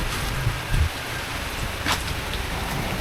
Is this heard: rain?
yes